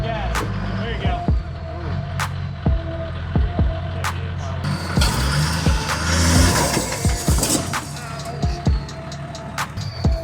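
A rally car on a red clay dirt track, its engine revving and accelerating in uneven bursts, with sharp knocks and pops over a rumbling low drone and a louder stretch midway.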